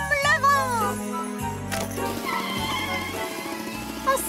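A cartoon horse gives a short, bright whinny at the start, followed by sparkly magical jingling and animated character sounds from a children's fairy-tale cartoon.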